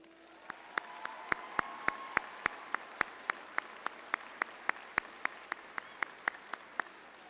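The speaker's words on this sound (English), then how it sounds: "Let's give them a round of applause." At a high school graduation ceremony, the audience applauds school staff, with sharp, evenly spaced single claps standing out over a soft, distant background of crowd clapping.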